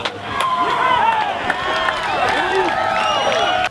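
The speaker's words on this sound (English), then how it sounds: "listen to the huge crowd reaction to MJ as he starts the round off right" A big crowd at a disc golf tournament cheers loudly and keeps it going after a player opens his round, with shouts and clapping over the cheering. A commentator talks over the crowd noise.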